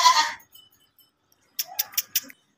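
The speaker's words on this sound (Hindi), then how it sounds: "मेरे पास ये टैडी बकरा है" A four-to-five-month-old Teddy breed male goat at a livestock market bleating, a brief strained cry followed after a pause by a quick series of four short, clipped bleats, close and clear.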